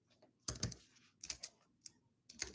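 A computer keyboard is typed on in several quick bursts of clicking keystrokes, faint and close, with short pauses between bursts.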